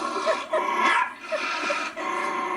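Dog guarding Christmas presents at home, giving soft, close whimpering yips and breathy vocalizations in short bursts over a steady indoor background.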